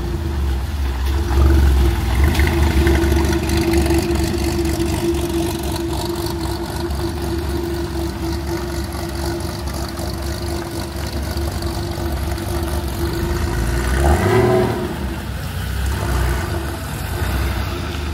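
Porsche 911 GT3 RS cars of the 992 and 996 generations pass by in stormy conditions, with a steady engine drone and one car's tone rising and falling as it goes past mid-clip.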